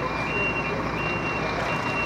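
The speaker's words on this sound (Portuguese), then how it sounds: "o alarme nesse momento está tocando." An alarm sounds at a bank branch wrecked in an ATM robbery, a steady high electronic tone held continuously over loud, dense street noise.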